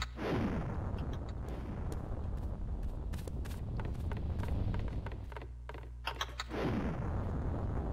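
Pumpkin bombs go off in Kaiju Paradise during its Halloween event, a dense run of loud booming blasts and sharp cracks over a constant rumbling game background.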